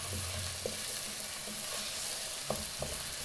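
Peas and rice frying in a pan for buttered chicken with veggie fried rice: a steady, faint hissing sizzle with occasional soft pops and light stirring knocks, no voices.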